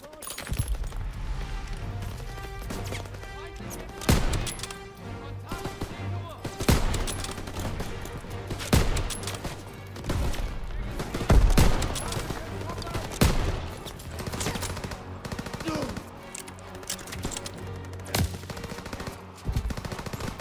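Bursts of gunfire and single shots crack out repeatedly amid a busy, layered mix with occasional voices, some shots loud and close, others distant, in the video game Call of Duty: WWII.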